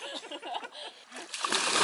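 Someone jumps into a lake on a wilderness camping and paddling trip, making a close watery splash that builds toward the end, with voices calling nearby.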